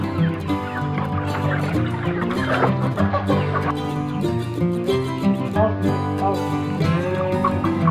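Many chickens cluck continuously at close range, a busy overlapping chorus of short calls with no pauses.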